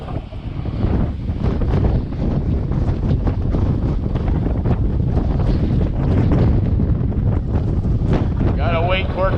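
Gale force wind roaring and buffeting a microphone on the coast at Point Udall, a constant loud rumble with gusts throughout, ending with a brief tonal warble.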